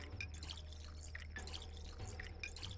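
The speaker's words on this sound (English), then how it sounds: "Alright, let's fill up all our bottles." Water trickles and drips from a large keg into bottles in the video game Pathologic 2. The flow is quiet and steady, with small splashes and no talking.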